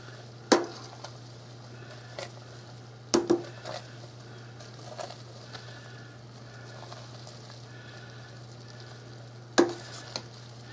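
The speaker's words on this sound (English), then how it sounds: "you want it to boil, but you don't want it to boil real fast." A pot of chicken and dumplings simmers with a soft bubbling hiss under a steady low hum, broken by a few sharp clinks and scrapes of a utensil against the pot.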